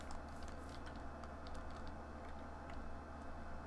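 Computer keyboard keys tapped repeatedly during Minecraft play, faint quick clicks in short clusters over a steady low background hum.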